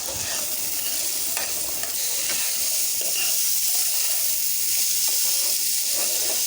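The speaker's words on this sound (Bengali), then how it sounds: "এখন আলুটাকে আমি একদম ভেজে নেব" Steady, loud sizzling of potatoes frying in hot oil, with occasional stirring clinks; no voices.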